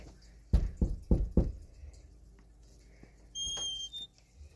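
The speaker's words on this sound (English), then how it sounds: "So, let's knock." Four sharp knocks on a facility door in quick, even succession, close and loud, followed by a brief high electronic beeping tone.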